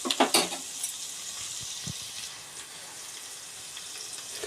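Onions and ivy gourd frying in a pan give a soft, steady sizzle, with a few louder stirring scrapes near the start and faint crackles throughout.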